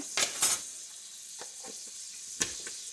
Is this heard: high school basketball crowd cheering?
no